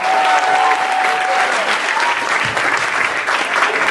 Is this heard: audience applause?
yes